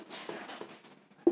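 Chalk or marker scratching across a board during an electrical measuring instruments lecture, a short run of quiet, soft strokes alone with no talk.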